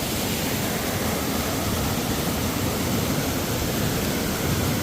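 After Cyclone Jasper, a once-dry creek bed runs as a raging river, a dense, constant rushing roar filling the clip, loud and close with no break or talk.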